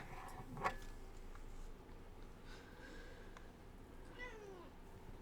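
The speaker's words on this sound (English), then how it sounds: "You have the cutest little meow ever." A cat gives a few small, squeaky meows, faint and spaced apart, against a quiet room background.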